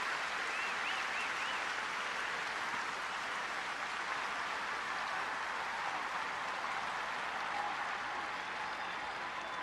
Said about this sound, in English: he's going to get a giant round of applause